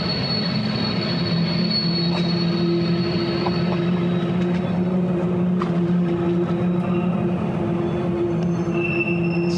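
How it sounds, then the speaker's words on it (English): A train rolls past near tracks at a wild camp, steel wheels squealing in long sustained high tones over a constant rumble of railcars, steady and close for the whole stretch with no talking. "That's a train"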